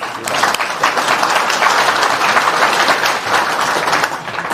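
Audience applause at a religious address, a steady crowd of hands clapping at moderate loudness for several seconds, fairly even with slight swells.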